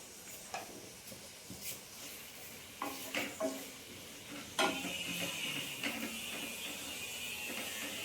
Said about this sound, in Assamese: আৰু এইখিনি মই এতিয়া অলপ ভাজি লওঁ।